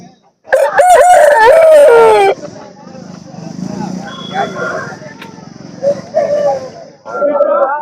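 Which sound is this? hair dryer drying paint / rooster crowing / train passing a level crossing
rooster crowing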